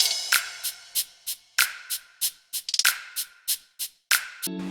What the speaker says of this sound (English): Some trappy hat rolls. A crash just to introduce the drop.